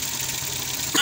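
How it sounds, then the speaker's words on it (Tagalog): A Suzuki K6A engine idles steadily after a camshaft replacement, a close, even mechanical hum with a light ticking, ending in a sudden louder burst. "Andar na yung makina."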